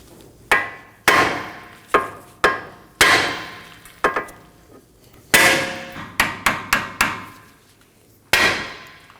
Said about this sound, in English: to separate the tie rod from the knuckle, I'm going to strike this part of the knuckle with a hammer